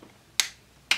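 Two crisp, short clicks about half a second apart from a room light switch, close and sharp against a quiet background, with no talking.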